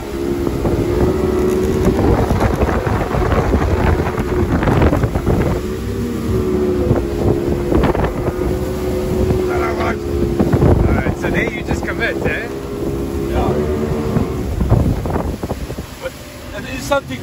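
A Sea Cat 510 offshore boat with a Yamaha outboard runs at speed off Durban, its steady engine drone mixed with loud wind buffeting and spray, while people talk over the noise.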